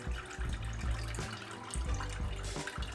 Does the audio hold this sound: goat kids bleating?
no